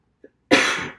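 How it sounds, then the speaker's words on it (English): A single short cough, preceded by a tiny throat sound, in an otherwise quiet room. "Oh, I have a cough."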